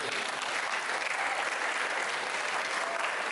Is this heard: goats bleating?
no